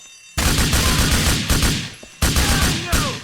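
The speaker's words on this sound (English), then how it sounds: "Oh my god, and I'm still getting shot at." Loud, close bursts of rapid gunfire in the video game Grand Theft Auto IV, a dense fusillade with fresh volleys striking every second or so and echoing crackle between them, with no talking.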